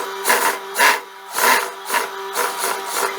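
A sewing machine runs in short repeated bursts of stitching as two pieces of fabric are joined right side to right side along the crotch seam of a wide-leg jumpsuit, with a steady hum between the bursts.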